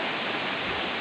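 Strong river current rushing steadily at a swimming spot, a dense continuous wash of water noise with no voices, close and even throughout.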